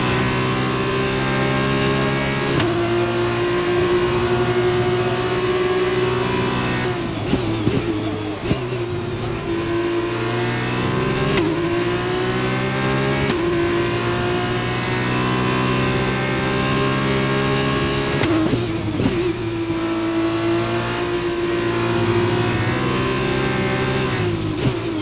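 Formula 2 race car engines at full speed in a racing video game scream loudly and steadily, with high-pitched revs climbing and dropping sharply at a few gear changes and braking points.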